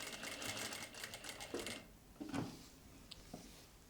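A domestic sewing machine stitches salwar pants in a short fast whirring run, then stops, followed by a few quiet handling clicks and bumps; no talking.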